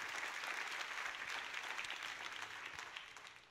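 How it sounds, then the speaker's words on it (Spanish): A church congregation applauds in praise, a dense wash of clapping from many hands that holds steady and then fades slightly, heard at a moderate distance and quite faint. "Dale más fuerte ese aplauso al Rey,"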